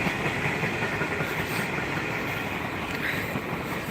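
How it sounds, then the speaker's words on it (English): A long train rolls past as a steady, unbroken rumble and roar that holds an even level throughout, close by, with no voices. "Wow, that's a long train."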